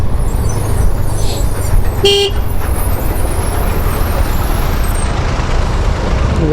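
Steady road traffic backed up by roadworks on the Mumbai to Konkan road rumbles throughout, with a short, loud car horn honk partway through and engines droning close by.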